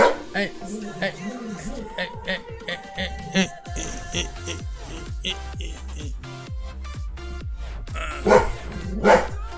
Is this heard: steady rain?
no